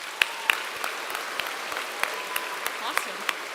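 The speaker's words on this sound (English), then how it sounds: "could we please give a round of applause to all of our community sponsors?" A crowd at a high school graduation ceremony claps for the community sponsors, with distinct, evenly spaced claps standing out over a soft, steady wash of applause and room murmur.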